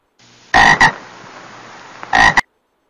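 Two loud croaks from a pond frog, each a short doubled burst, separated by about a second and a half of quiet background hiss.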